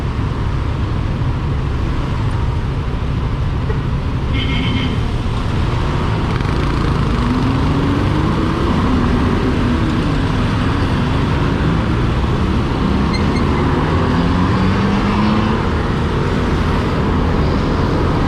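Steady, loud engine drone of a motorcycle being ridden, with a continuous rumble and shifting whine as it rides along.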